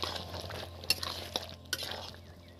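A spoon stirs whole potato curry (aloo dum) with chopped onion and green chillies in a pan, making soft scraping and shuffling under a low background hum, with a few sharp metallic clinks of utensil against pan.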